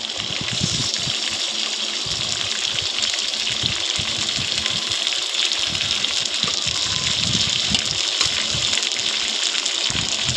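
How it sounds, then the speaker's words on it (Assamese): Pork pieces added to hot oil in a wok, sizzling loudly and continuously up close, a broad rushing hiss with irregular low knocks of the meat and utensil against the pan, and no voices. "তাৰপিছতে মই মাংসখিনি দিছোঁ।"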